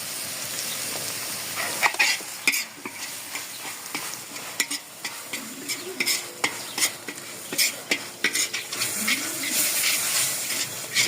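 Chopped green chillies fry in a pan for a chana saag dish, with a continuous sizzle and hiss broken by repeated stirring scrapes and clinks of a utensil against the pan.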